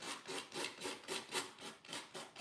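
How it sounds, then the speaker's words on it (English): Paint is sanded off a wooden surface with steady back-and-forth strokes, a rhythmic scratchy rasp repeating about every third of a second, close but fairly quiet, with no talk. "Just sanding it off."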